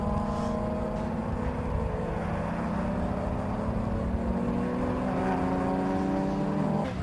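Racing cars lapping Croft circuit during a club endurance race, a steady continuous engine drone with rising whine that holds throughout, distant and even in level with no speech.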